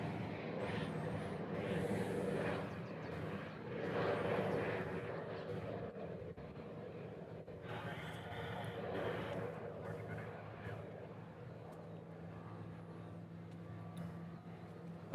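A JAL Boeing 767 airliner at Honolulu airport gives a steady, fairly loud jet engine roar that swells and fades slightly across the whole stretch, with no talking.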